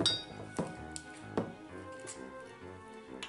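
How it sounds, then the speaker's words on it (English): Ice cubes clink and rattle into a cocktail glass, several sharp glassy knocks with a brief settling jingle, close and fairly quiet with no talking. "In whatever glass you are serving in, you can add some ice"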